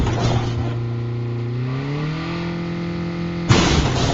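A vehicle engine in Call of Duty Mobile battle royale hums steadily and rises in pitch as it draws closer, then cuts to a burst of noisier in-game sound.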